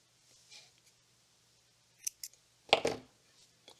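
Thread for a bead loom bracelet snipped in half with scissors, a few short close crisp cuts and handling noises in an otherwise quiet room.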